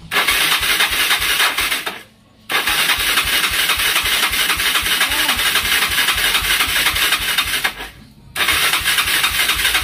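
Yamaha Mio Sporty scooter engine being cranked after a carburetor cleaning, with loud close revving and running that cuts out twice into brief quiet before restarting.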